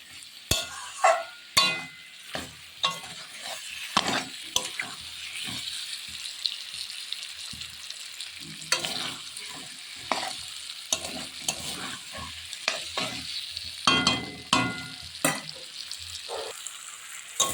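Potatoes and spices stir-fried in a pan for a duck egg and potato curry: a spatula scrapes and knocks steadily against the metal over a soft continuous sizzle, close up, with no voices.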